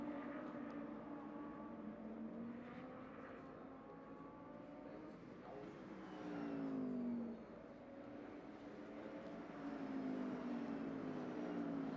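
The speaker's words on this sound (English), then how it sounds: "So all these cars working hard in this extreme heat at Sepang." Audi R8 LMS race cars at Sepang circuit in extreme heat, engines droning and revving continuously with rising and falling pitch as cars pass, a steady distant roar of several cars with a louder surge near the end.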